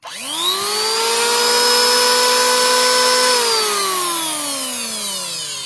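A MASAKI 1900B two-blade electric wood planer switches on and winds up to a loud, high mechanical whine, runs steadily for a few seconds with no wood being cut, then slowly spins down as the pitch drops.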